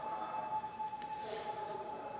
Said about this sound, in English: Ooh, that's a really loud siren.